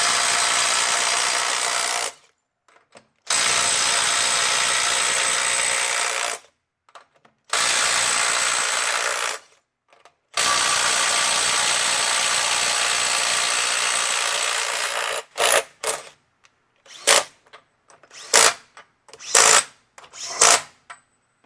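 Makita 18V brushless right angle impact wrench breaking a bolt free at 200 foot-pounds: three long loud hammering bursts separated by silences, then a run of short rapid bursts, close up with no talk.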